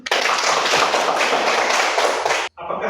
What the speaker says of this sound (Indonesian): Kita beri tepuk tangan kepada Beatrice dulu.